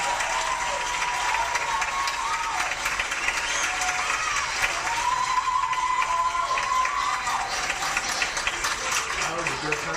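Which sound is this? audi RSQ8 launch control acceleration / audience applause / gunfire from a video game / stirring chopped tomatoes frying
audience applause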